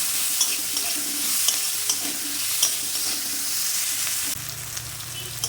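Onion, ginger and slit green chillies sizzle steadily in a hot pan, with a spoon stirring and scraping every so often.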